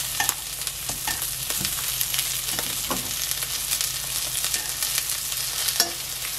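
King oyster mushroom pancakes cooking in a frying pan on residual heat after the burner is switched off, a constant soft sizzle with occasional light crackles and a few faint scraping touches, nearby and without talk.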